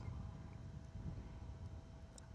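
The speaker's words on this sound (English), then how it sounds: "As a big gust of wind hits me." A low, rumbling buffet of wind battering the microphone during a flight, steady and blustery throughout, with no voices.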